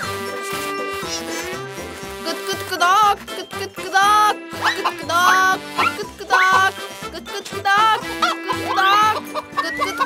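A cartoon character's voice imitates chicken clucking, repeating rhythmic sung cluck phrases that rise and fall over cheerful music, loud and close.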